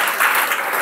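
Church congregation applauding at a worship service, a short burst of dense clapping with no pause, loud and close.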